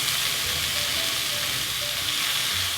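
Tomatoes frying in a pan for a home-grown callaloo dish with bacon, giving a steady, close, dense sizzle that runs unbroken throughout with no talking.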